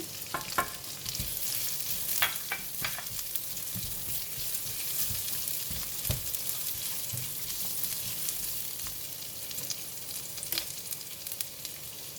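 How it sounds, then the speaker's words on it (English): Chili and vegetables fry in a pan for mee goreng tofu, a continuous sizzle with scattered stirring taps and scrapes, close and alone without speech. "I'm going to add in the chili and the vegetable in the pan."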